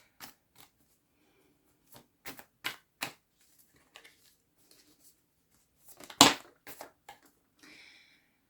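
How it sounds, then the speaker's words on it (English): Tarot cards are shuffled in short, crisp bursts of riffling and tapping, close and fairly quiet, with pauses between and one louder snap near the end. "when I was shuffling now"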